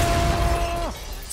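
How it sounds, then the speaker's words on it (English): Grenade explosion in Rainbow Six Siege, a loud close shattering blast with falling tonal ringing that cuts off sharply after about a second, no talk over it. "Oh, grenade!"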